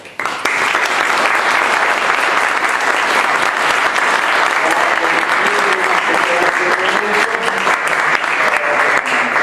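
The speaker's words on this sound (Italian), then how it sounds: "Possiamo salutarti con un grande applauso?" A gathering's audience gives a long, full round of applause after a personal testimony, dense and steady clapping from many hands that starts abruptly and holds strong to the end, with some voices mixed in.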